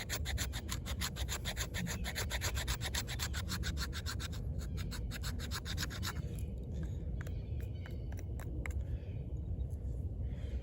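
A Schrade Exertion AUS10 steel knife scrapes thin shavings from wood in quick rhythmic strokes, a close, quiet rasping series that slows and thins out toward the end.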